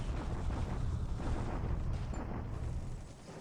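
Artillery bombardment in the wargame War in the Pacific, a continuous, moderately loud rumbling roar of distant explosions that rolls on steadily and eases slightly toward the end.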